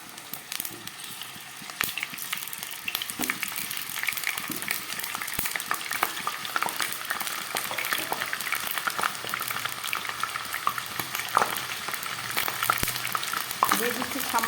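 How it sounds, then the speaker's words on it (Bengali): Potatoes fry in mustard oil in a wok, crackling and sizzling steadily at moderate volume, with occasional stirring scrapes for about fifteen seconds. "এই তেলের মধ্যে আমি দিয়ে দিচ্ছি আলুগুলো।"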